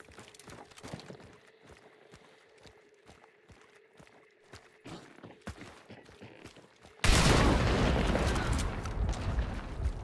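An explosive barrel in the video game Hunt: Showdown is shot and bursts into a loud, sustained roaring blast after several seconds of quieter footstep-like thuds and clatter, then rumbles on to the end.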